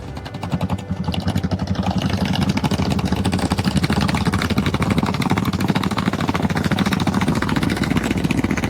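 A vehicle engine runs steadily at idle, a continuous low rumble with a rapid chugging pulse throughout, fairly loud and close.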